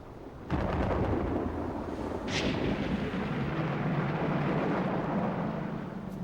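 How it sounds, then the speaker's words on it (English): A loud, deep rumble of thunder rolls on and on, heavy and sustained, with a crackling edge near its start. "it's still hot enough for heavy thunderstorms to build up"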